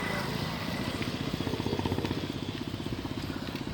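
Motorbikes on a road give a rapid, pulsing engine chug that grows louder toward the middle and stays close, with a faint voice in the background.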